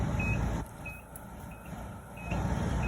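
A handheld voltage indicator near 15,000-volt high voltage gives repeated short, evenly spaced beeps, clear above a loud low engine-like rumble that dips and returns during an arc flash demonstration.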